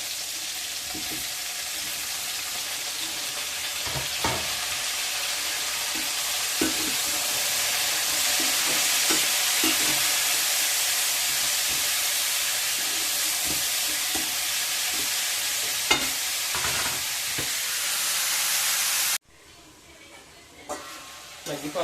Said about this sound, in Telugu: టమాటాలు వేసేద్దాం ఇంకా టమాటా వేసేద్దాం